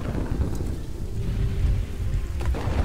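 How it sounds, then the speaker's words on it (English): Steady rain falls in the Kingdoms and Castles video game, a constant rushing hiss with low rumbling underneath and a faint tonal hum, unbroken throughout. "And it's raining."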